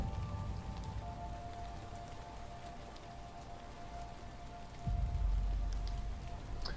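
Rain falls in the Lovecraftian horror game Paradise 2, made in Dreams on PS4, as an even, steady patter with a low rumbling swell near the end and no voices.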